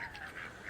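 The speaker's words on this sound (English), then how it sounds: "Go back in, duckies." A few ducks at Llangefni give soft, short quacking calls close by in a brief moment with no talk.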